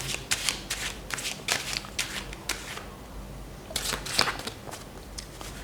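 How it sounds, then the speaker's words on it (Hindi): Tarot cards being shuffled close by in quick riffling bursts, a pause, then another run of shuffles, with no talking. "हम चलते हैं पाइल 2 के पास और शफल करके देखते हैं।"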